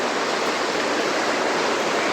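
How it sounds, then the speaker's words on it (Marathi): Dhodhani waterfall stream near Panvel rushing and babbling over rocks, a loud, steady, dense wash of water noise that stays close and unbroken throughout. "वाहत वाहतं येतो एकदम मस्त खळखळ खळखळ आणि हे पाणी सगळं खाली जातं"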